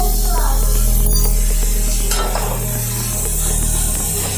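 Sliced onions sautéing in hot oil in a pan, a loud continuous sizzle with occasional stirring scrapes throughout, steady and close.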